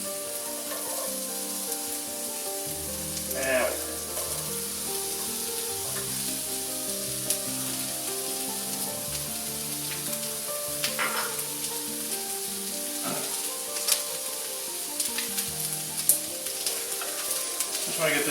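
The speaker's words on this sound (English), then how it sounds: "Just want to get this onion cooked in a little hot olive oil." Yellow onion sautéing in hot olive oil, with a continuous close sizzle and occasional stirring over faint background music.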